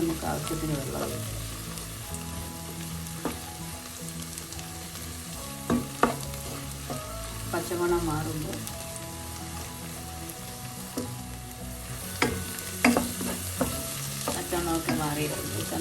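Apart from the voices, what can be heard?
masala frying and being stirred in a pan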